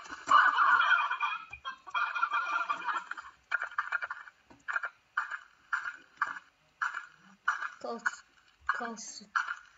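Chickens cluck in the video game Slime Rancher, a series of short, regular clucking bursts that repeat in a steady rhythm, with game sounds and a voice talking over the first part.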